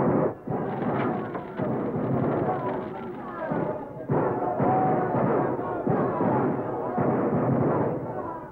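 Archive recording from 1944 of German artillery bombarding French troops on the outskirts of Paris: loud, muffled, band-limited booms and blasts following one another almost without pause in a dense, continuous barrage.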